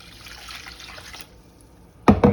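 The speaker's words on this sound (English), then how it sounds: "Put my water in there." Water poured from a measuring cup into a pot for cooking farm grits, a soft splashing stream that fades, followed by a louder burst of splashing near the end.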